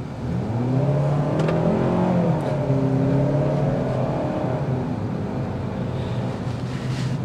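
A 2024 Hyundai Tucson SEL SUV engine accelerating, a steady droning note that rises and bends in pitch as revs climb, heard from inside the cabin with road and wind noise underneath.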